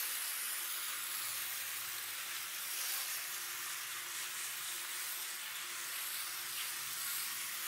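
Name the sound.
liquid being sprayed from bottle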